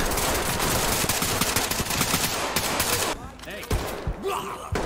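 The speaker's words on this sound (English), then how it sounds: "I see the gunfire" Rapid bursts of gunfire in the tactical shooter game Ready Or Not, dense and loud, rattling for about three seconds before thinning into sparser shots, with some players' voices mixed in.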